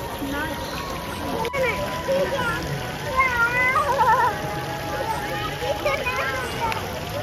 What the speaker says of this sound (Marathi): कारंजी बघू शकता पाण्यात.